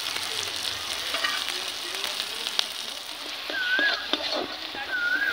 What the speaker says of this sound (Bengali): সমস্ত মশলা দিয়ে আমি ভালো করে কষিয়ে নিচ্ছি।